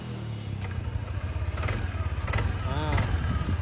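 A 2021 Yamaha NVX 155 scooter with a standard engine idles nearby, a steady low rumbling hum that holds even throughout, with some faint talk in the background.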